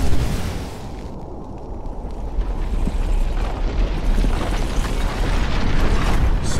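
Fire whooshes and crackles to life in the video game Hunted: The Demon's Forge, a loud sustained roaring burn that swells and holds, with no talk.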